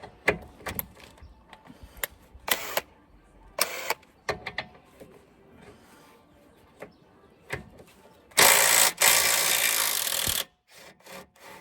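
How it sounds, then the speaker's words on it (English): Impact wrench loosening the rear front-wishbone bolt, an 18mm, on a 2010 Ford Focus MK2: scattered knocks and scrapes, then one loud rattling burst of about two seconds, followed by a few light clinks. "Again, I'm going to use impact wrench because this will be tight."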